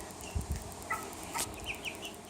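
Six-week-old chicks make soft, scattered clucks and peeps around a chicken coop. The calls are faint and intermittent against a hushed background, with a few low thumps.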